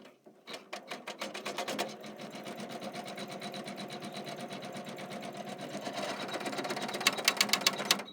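An embroidery sewing machine stitching a garden-themed mat design runs with a steady, rapid mechanical needle patter, speeding into sharper, louder bursts of stitching near the end.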